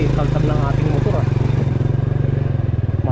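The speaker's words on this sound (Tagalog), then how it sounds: "Grabe kaltag ng ating motor ah." A motorcycle rattles over a rough, bumpy back road with a loud, pulsing engine throb and clattering jolts. It stays close and constant the whole time.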